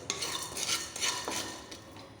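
Curry leaves and other ingredients being dry-roasted and stirred in a pan for idli powder, with a steady scraping, rustling stir and faint sizzle, close and moderately quiet, no talking.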